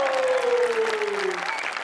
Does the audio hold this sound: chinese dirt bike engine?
no